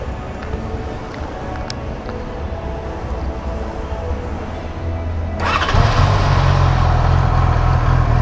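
A Yamaha R6 motorcycle, back from repairs to a clicking relay and error code 12, cranks and fires up, then settles into a steady, loud idle after a quiet stretch of background noise.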